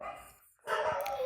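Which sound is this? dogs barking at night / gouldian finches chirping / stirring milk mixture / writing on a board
dogs barking at night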